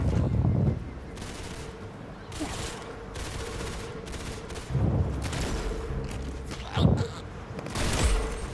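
Gunfire in the Roblox game Arsenal: several bursts of rapid shots, some close and loud and others farther off, spread through a busy in-game firefight with no talking.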